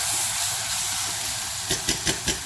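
Potatoes frying in a pot on a stovetop burner give off a steady, broad sizzling hiss, with a few sharper crackling bursts popping near the end.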